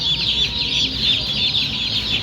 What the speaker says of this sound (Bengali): দেখেন সুন্দর সুন্দর এগ্রেড স্বয়ং সম্পূর্ণ টাইগার মুরগি এবং ব্রয়লার মুরগি।